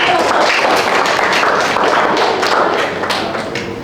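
Students in a teacher-training practice class applaud a group, a loud, close, dense wash of clapping that stays strong and slightly tapers off near the end.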